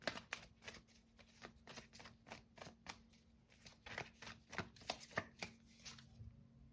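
Tarot cards are riffled and handled in quick, crisp bursts of flicks and snaps at close range, with brief pauses between, quiet overall and with no talk.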